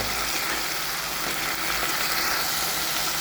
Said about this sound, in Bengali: কিছুটা টার্মেরিক পাউডার কিছুটা কাশ্মীরি চিলি পাউডার দিলাম ভালো করে নাড়িয়ে নেব